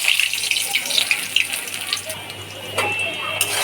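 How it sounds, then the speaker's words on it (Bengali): Onions dropped into hot oil for a fish kofta curry hiss loudly in a dense, crackling sizzle that carries on steadily, close up. "তেল গরম হয়ে গেছে, এখন দিয়ে দিচ্ছি পেঁয়াজ।"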